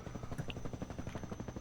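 Helicopter in the video game Garry's Mod, its rotor thumping in a steady rapid rhythm with a low engine drone, loud and close, with no voices over it.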